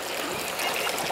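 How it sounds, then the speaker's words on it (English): River water rushes and trickles steadily while clothes are washed at the riverbank, a continuous close, bright flowing hiss with no talking. "Washing my clothes at the river."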